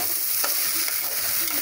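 Rice tipped into a frying pan of cauliflower with asafoetida and green chillies for gobhi pulao, sizzling loudly and continuously with light stirring clatter.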